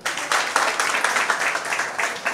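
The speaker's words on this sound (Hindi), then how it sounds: "चलो तो ताली बजा दो।" Audience applause at a collective Kshamavani gathering in a Digambar Jain temple, a dense crowd of hands clapping steadily and fairly close for a couple of seconds.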